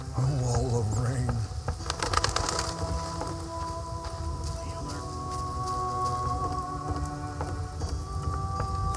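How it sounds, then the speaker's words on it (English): Heavy rain pours down in The Witcher video game, a dense, steady wash of falling water with a brief rumble, continuing without pause. "Not good. It's raining."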